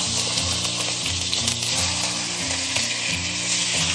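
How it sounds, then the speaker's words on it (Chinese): Squid sears in oil in an iron wok over medium-low heat, a loud, continuous sizzle throughout, with a low rhythmic mechanical hum running underneath. "接着我们下入鱿鱼，保持中小火煎"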